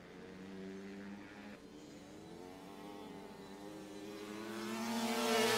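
A fast Kawasaki racing motorcycle's engine drones steadily at a distance and then swells louder toward the end as it nears.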